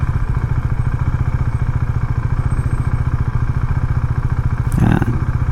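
A Husqvarna Svartpilen 401 motorcycle being ridden, its single-cylinder engine thrumming in a steady, rapid pulse up close under wind noise, with a brief rustling burst near the end and no talk.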